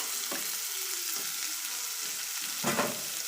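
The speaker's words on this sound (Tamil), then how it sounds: "எல்லாத்தையும் சேர்த்து வதக்கிக்கலாம்" Onion, garlic, green chili and curry leaves sautéing in a pan for carrot beans poriyal, giving a steady close sizzle broken by a few stirring scrapes, with no talking.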